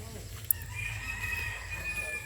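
A rooster crows faintly in the distance somewhere in the Philippine provinces, one sustained call held for over a second over a low background hum, with a brief click just before it.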